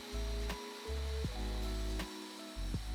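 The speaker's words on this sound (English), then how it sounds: "Taking the board, I cut it down on the table saw." A table saw motor hums steadily and fairly quietly while cutting a board, its pitch dipping and recovering a few times as the blade works through the wood.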